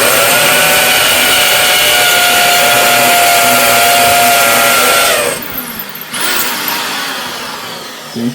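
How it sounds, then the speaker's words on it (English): A hammer drill bores into cement during toilet removal and replacement, a loud, continuous, close-up buzzing grind that cuts out briefly partway through, then resumes more quietly. "the hammer drill is very important when you're drilling into cement"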